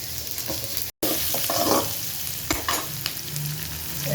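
Onions sautéing in a pan for mutton curry: a steady, close sizzle with scraping stirs and a brief gap near the start, with no talking.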